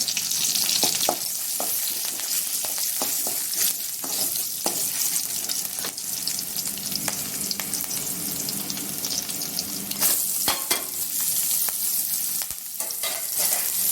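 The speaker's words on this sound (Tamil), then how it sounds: "நல்லா வதக்கி எடுத்துக்கலாம் பார்த்தா வெங்காயம் அந்த கோல்டன் கலர் வர நல்லா வதக்கி எடுத்துக்கலாம்" Onions with green chillies and curry leaves sauté in a pan for semiya upma, a steady close sizzle and crackle with scattered spatula scrapes and clicks throughout, no voices.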